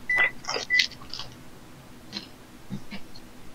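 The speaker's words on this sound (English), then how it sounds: "What is that beeping that keeps happening?" Two short electronic beeps sound close together near the start, followed by faint ticks and small knocks in a quiet room.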